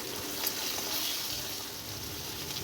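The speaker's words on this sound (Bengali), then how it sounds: "এখানে ইলিশ মাছটা ভাজা হচ্ছে" Hilsa fish frying in a pan, a steady close hiss and crackle of hot oil with no talk over it.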